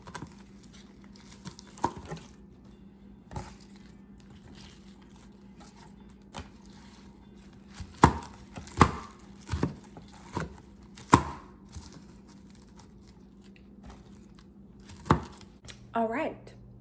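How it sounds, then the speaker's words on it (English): Spinach chopped with a knife on a cutting board, scattered sharp taps in small bursts, close by, with quiet pauses and a voice speaking near the end. "So I have cut up 4 cups of spinach"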